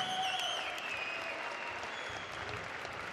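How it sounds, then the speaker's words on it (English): Sustained crowd applause fills the arena for both fighters after a five-round K-1 rules kickboxing bout, broad and steady throughout with no break. "big round of applause to both fighters for a fantastic contest"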